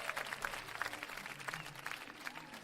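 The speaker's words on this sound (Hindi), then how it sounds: "तालियों के साथ इनका स्वागत करें।" An audience at a Hindi comedy and poetry gathering applauds to welcome a poet to the stage, a steady spread of mid-distance clapping that carries evenly for a couple of seconds.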